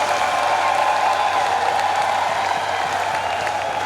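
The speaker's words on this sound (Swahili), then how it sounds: "Hebu tumpigie Mungu makofi na vigelegele." A church congregation at a thanksgiving Mass claps continuously while a sustained high trilling of ululation rides above the dense applause.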